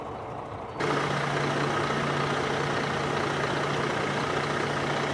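A high-mileage twin-turbo fleet truck engine with about 700,000 miles on it settles into a steady, loud idle just after starting, a constant low diesel drone with a firm hum, heard close and alone.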